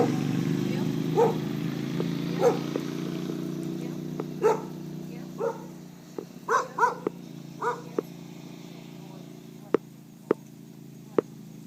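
A dog gives several short barks spaced across the clip, moderately close, over a steady engine-like hum with a few sharp clicks near the end.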